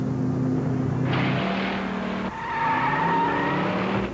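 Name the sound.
car driving with skidding tires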